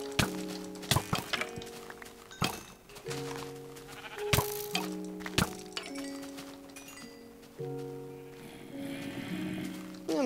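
Sheep in the video game Minecraft bleat several times in a row, mixed with sharp cracks and clinking game effects, loud and close with no talking.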